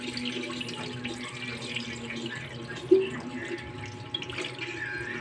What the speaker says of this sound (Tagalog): Hugasan mo lang, hugasan mo pa. Tapos, dahan-dahan buhos.